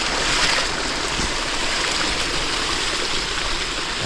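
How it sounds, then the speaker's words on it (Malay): Stream water flows steadily beside a forest edge where catfish traps are set, a continuous broadband rush and gurgle held close and loud throughout with no voices. "Air mengalir."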